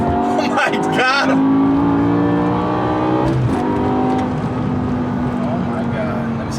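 A BMW E60 M5 V10 with an aftermarket exhaust, loud rising and falling engine revs through downshifts with sharp crackling pops, heard from inside the car over excited talking.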